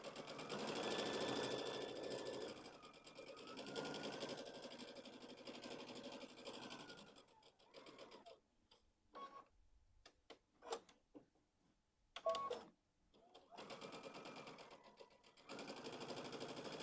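Sewing machine stitching a fabric pumpkin pillow: close, loud whirring runs of stitching broken by pauses, with soft clicks and taps as the presser foot is lifted and the fabric turned, then stitching resumes.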